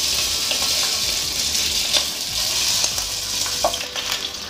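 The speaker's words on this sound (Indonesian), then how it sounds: "Setelah minyak panas, lalu goreng ayam." Chicken pieces frying in a pan of hot oil, a steady broadband sizzle with occasional louder crackles and stirring sounds, close and continuous with no talking.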